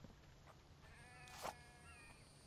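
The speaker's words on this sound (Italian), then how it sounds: "No, la pecora" A sheep bleats once in The Infected, a single faint, short cry over a quiet game ambience with a soft buzzing like insects, and no voice.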